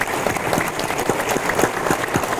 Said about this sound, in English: Let us please give them a round of applause